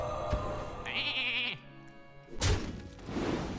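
A cartoonish sheep bleat from the Hearthstone card game's polymorph effect, one wavering bleat followed by game thunks and effect sounds, fairly close and clear with no speech.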